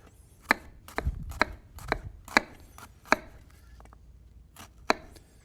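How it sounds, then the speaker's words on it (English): Knife chopping through slices of eggplant on a cutting board: about nine sharp, close knocks in an uneven rhythm, with nobody talking. "we're going to cut little 1/4-inch slices in one direction"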